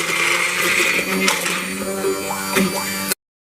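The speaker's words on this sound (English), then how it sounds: "I'm using my immersion blender to blend this up." An immersion blender purees tomatoes and onions for a paneer curry, a steady whirring hum running for about three seconds and then stopping abruptly, with a voice talking over it.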